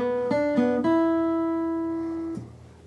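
Clean electric guitar playing the opening riff of a song, a few quick picked notes sliding up into one long sustained note that rings out and fades, heard alone.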